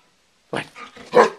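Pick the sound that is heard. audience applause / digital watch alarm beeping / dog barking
dog barking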